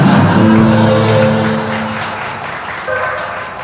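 Applause from a comedy show audience, a dense wash of clapping that starts loud and slowly thins, with a sustained musical tone running through it and a brief swell near the end.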